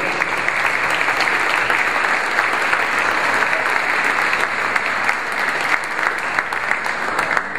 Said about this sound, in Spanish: Démosle la bienvenida con un fuerte aplauso a Guillermo Osorno.